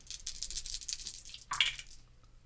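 Dice rattling and tumbling during a Star Wars Edge of the Empire tabletop roleplaying session, a quick clatter of plastic dice followed by a brighter burst as they settle, fairly close and quiet.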